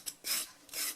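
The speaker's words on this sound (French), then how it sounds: "Et la carotte, je vais faire que la gratter." A carrot scraped lightly with a blade for dog food preparation, two short rasping strokes plus a tiny tick, close and faint with no talking.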